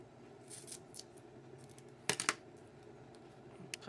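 Scissors snip down the middle of a sheet of paper, a few soft, quick cuts up close and faint against a quiet room, with no talk.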